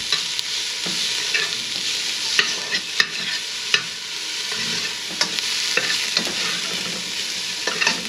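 Onions frying in a pot with tomato paste for Guyanese metemgee, a dense, steady sizzle close up, broken by light rhythmic scrapes and taps of a spoon stirring, no talk.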